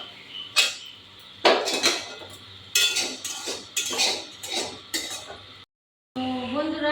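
Fried bitter gourd and potato being moved to a dish bring a series of close metallic clinks and scrapes, a utensil knocking against pan and plate in uneven bursts, then a short gap and a brief tonal sound.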